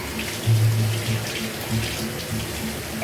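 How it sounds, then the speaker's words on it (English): Tap water runs steadily while charred pepper peel is rinsed off under it in a kitchen sink. The flow is continuous and close, with faint splashing, and no voices. "I'm rinsing off the peeling"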